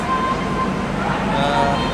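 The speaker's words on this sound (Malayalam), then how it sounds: "ഇതാണ് നമ്മുടെ നേത്രാവതി എക്സ്പ്രസ്." The Netravati Express rumbles at a station platform, a low steady drone with faint hum and background murmur, continuous and fairly loud throughout.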